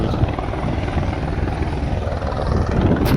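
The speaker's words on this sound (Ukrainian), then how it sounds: "Але літає вертоліт, якщо я не справлюся, вони заберуть мене." A helicopter flies overhead near Cala Varques on Mallorca, its steady broadband rotor and engine roar filling the whole stretch at constant loudness, swelling slightly near the end.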